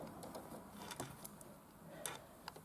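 A sewing machine stitching fabric for a toy elephant, faint and low with soft irregular ticks and clicks over a quiet hum, heard alone.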